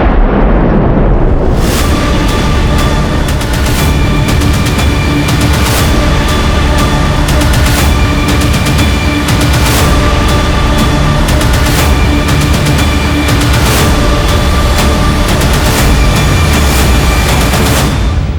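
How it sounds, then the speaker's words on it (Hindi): A loud, sustained rumbling blast from a building explosion, with repeated sharp cracks and crashes, continuing for many seconds without any voices. "ये तो छोटा सा धमाका था।"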